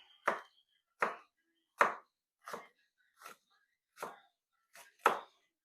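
A sharp knife chops Roma tomatoes and other vegetables for pico de gallo on a cutting board, seven distinct crisp chops at an even pace of about one per second, close and fairly quiet.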